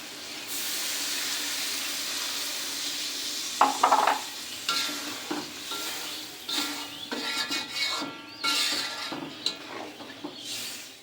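Fish curry is sautéed in a pan, a low sizzle under repeated scraping and clattering strokes of a spoon stirring the masala, close by with no voices.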